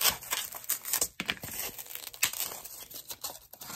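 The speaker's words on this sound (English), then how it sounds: "Let's go ahead and cut off some pieces of styrofoam." A styrofoam block is cut into pieces for a succulent planter craft, making a close, dense run of squeaky scraping and crunching bursts with brief gaps and no talking.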